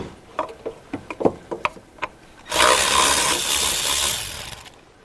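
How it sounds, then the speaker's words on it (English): Bolt on a Dodge Grand Caravan thermostat housing being undone: a string of sharp, uneven ratchet-like clicks, then a loud, steady rushing whir that holds for a few seconds before tailing off. "So here comes the bottom bolt"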